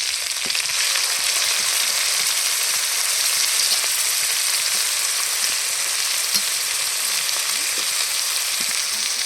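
Onion paste sizzles loudly in hot frying oil for a Bengali prawn malai curry, a steady, dense, close hiss that runs unbroken throughout with no voices.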